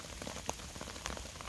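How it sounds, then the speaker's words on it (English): Heavy rain pours onto a tent in a wet forest, a steady faint patter of dense drops with a few sharper individual hits, no voices over it. "It's absolutely pouring down with rain."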